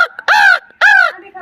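A man imitates a crow's caw with his voice, giving two loud, nasal caws separated by a short pause, close to the listener with no other sound around them.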